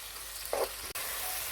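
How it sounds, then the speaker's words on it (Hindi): Okra with tomatoes and onions being stir-fried on a medium-high flame, a faint even sizzle throughout with one brief soft scrape of a utensil midway. "हम मीडियम टू हाई फ्लेम पे इसको स्टर फ्राई कर रहे हैं"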